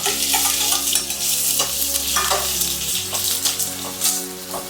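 Onions sizzling in hot oil alongside green chilies and curry leaves for a Rayalaseema country-chicken curry, stirred with steady scraping strokes; close, continuous frying hiss with a low hum underneath, no voices.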